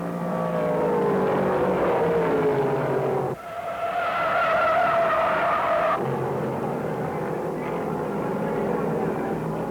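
A race car spinning out during the 1968 Cardinal 500 at Martinsville, NASCAR, loud engine roar and tire noise from a crowd of stock cars, a brief dip then renewed surging engines throughout.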